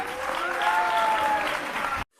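Audience applause at a televised debate, a dense steady burst of clapping from a crowd that stays loud for about two seconds and then cuts off abruptly.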